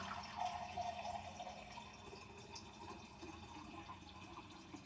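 Filtered water poured into a measuring cup in a kitchen, a soft, continuous trickle and splash at low level, with faint clinks near the start.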